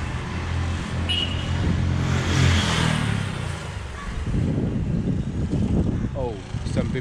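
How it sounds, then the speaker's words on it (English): Motorbikes race along Bangalore city streets during a lockdown, engines passing close with a rising rev that fades, then more revving and road noise as someone talks throughout. "racing their bikes on the streets."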